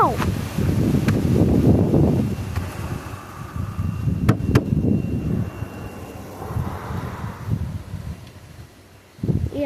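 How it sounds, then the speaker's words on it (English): Strong wind gusts roar and buffet the microphone on a very windy day outdoors, swelling and fading in loud surges, with a few brief sharp knocks and a faint distant drone behind. "Oh, it is windy."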